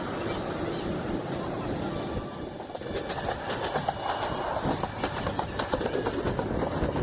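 A Kolkata-to-Digha passenger special, running on the rake of the Balurghat–Kolkata Tebhaga Express, rumbles steadily along the rails. A loud, continuous roar carries faint rhythmic clicks of the wheels, with no clear voices.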